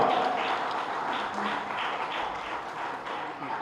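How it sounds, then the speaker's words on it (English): Audience applause at an awards ceremony, a steady broadband patter of many hands clapping at a moderate level throughout, with a faint voice briefly audible near the start. "Please give a good round of applause"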